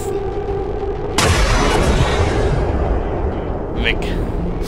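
A loud gunshot from the XCOM 2: War of the Chosen strategy game cracks suddenly and rolls into a sustained booming decay, followed near the end by short sharp effects.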